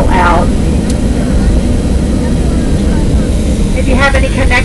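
Jet engine roar inside the cabin of a Southwest Boeing 737-700 after landing in New Orleans, a loud steady rumble with brief higher whines near the start and end.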